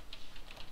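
A few quick, light keystrokes tapped on a computer keyboard, faint and close, with no voices.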